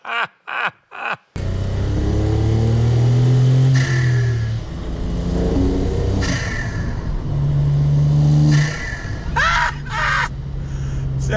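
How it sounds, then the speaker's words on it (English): A turbo-converted Volkswagen Up GTI engine revs up and settles several times, a light turbo whistle riding on top of the steady engine drone. "Oh, it's like such a tiny little turbo noise."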